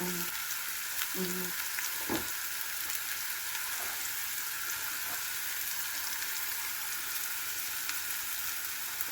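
Ground beef sizzling and frying in a pan for a Filipino tortang talong eggplant dish, a steady close crackle with a few soft stirring knocks early on, no talking.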